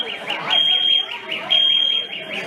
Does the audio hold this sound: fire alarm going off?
yes